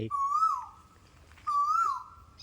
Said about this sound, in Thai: เราเปิดหัวด้วยเสียงนกกาเวา ซึ่งร้องอยู่บน ยอดไม้